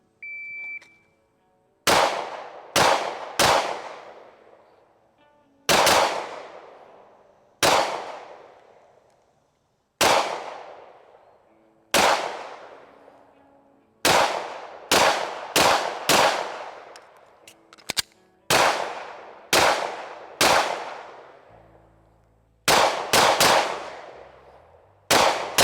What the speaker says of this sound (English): So I'm gonna start off this video shooting the Echelon